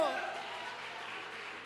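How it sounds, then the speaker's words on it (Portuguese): A church congregation applauds in a soft, continuous wash of clapping that sounds distant and fairly quiet, without a break. "Aplauda o Senhor!"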